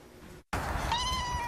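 Several cats meow at a cat rehabilitation home, starting after a brief silence with a clear, drawn-out tonal meow rising over busy background noise, fairly close and loud with no talking.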